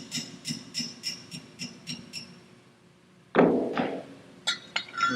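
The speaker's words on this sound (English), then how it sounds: "Now we're going to drive our retaining sleeve pin through" Metal punch struck by a hammer to drive a retaining sleeve pin out of a Master Flo P2 P25 manual choke valve: a run of quick, fairly even clinking taps, then a louder heavier blow followed by a few scattered knocks.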